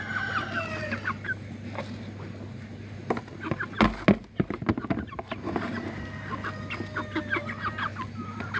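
Chickens on a small home farm cluck and call steadily at close range over a constant low hum, with a brief burst of clattering movement midway and no talking.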